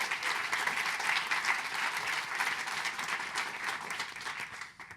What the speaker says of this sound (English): give a big round of applause to the 11 women entrepreneurs